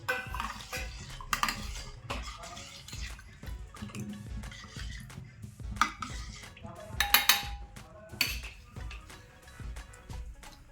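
A spoon stirs turmeric, black pepper and asafoetida into tomato soup in a pot, giving close, intermittent metallic clinks and scrapes against the pan, with a few sharper knocks midway.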